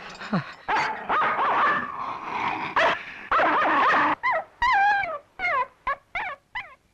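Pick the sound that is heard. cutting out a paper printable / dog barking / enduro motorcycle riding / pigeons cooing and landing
dog barking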